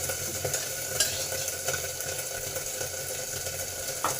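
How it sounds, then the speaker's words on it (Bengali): Two bay leaves and one dried red chilli sizzle in hot oil in a pan for a Bengali shukto, a soft, continuous crackling fry with light stirring scrapes and no talk. "2টো তেজপাতা আর একটা শুকনো লঙ্কা। এগুলোকে কয়েক সেকেন্ড ভেজে নেব।"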